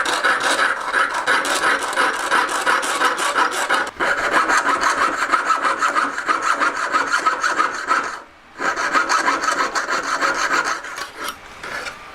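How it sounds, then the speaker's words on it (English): A handsaw cuts a line down the middle of a wooden tree branch to split its ends for a ring, a steady close rasping stroke rhythm that runs continuously with one brief pause near the end. "so we're just sawing a line down the middle."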